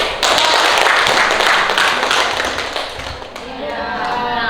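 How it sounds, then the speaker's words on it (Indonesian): A classroom group claps loudly and continuously for a few seconds, the dense applause easing slightly toward the end. "Oke, tepuk tangan."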